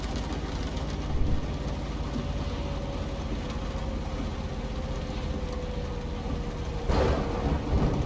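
Steady thunderstorm rain pours inside American Truck Simulator on a drive in Georgia, a constant dense wash over low engine rumble with a couple of brief thunder swells, and no talking.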